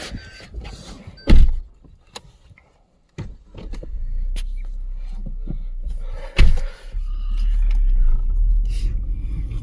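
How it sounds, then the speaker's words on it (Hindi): A car on a cold Ladakh road trip near the Siachen Glacier: a door thump, a moment of silence, then the engine catching and settling into a steady low idle, with another thump partway through and no talking. "तो हम गाड़ी करते हैं स्टार्ट।"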